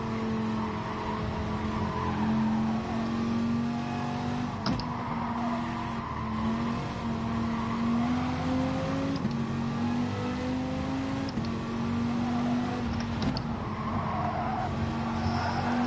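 Race cars in the Gran Turismo video game drone steadily with engines rising and falling through gear changes, a continuous mechanical whine with occasional sharp clicks, heard without talk.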